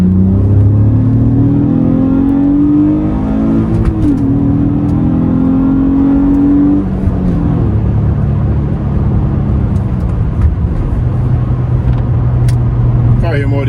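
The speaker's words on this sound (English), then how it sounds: "Let's do some pulls on the inside of the car." Acura TL with mid muffler delete and resonators heard from inside the cabin: a loud, rising engine note climbs through a pull, drops at a shift, then settles into a steady low cruising drone with road rumble, close and continuous.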